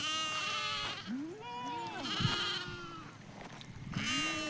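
Several sheep and lambs penned in a farm field bleat one after another, wavering high and low calls overlapping close by, with a brief thump in between.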